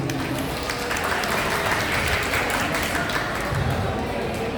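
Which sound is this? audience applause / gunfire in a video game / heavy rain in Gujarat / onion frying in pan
audience applause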